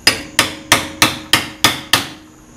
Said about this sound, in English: Joe, can I beat on your new screwdriver with a hammer?